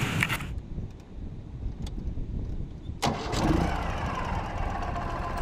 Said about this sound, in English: So confidently I fire up the rig and start trying to back up